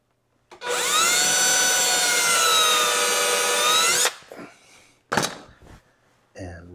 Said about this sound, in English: And run the screw.